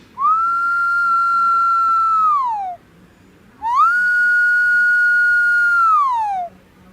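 A human voice whistles in imitation of the matinta spirit's eerie midnight call, from an Indigenous village tale: two long, loud, steady high whistles, each ending in a falling glide, separated by a short pause.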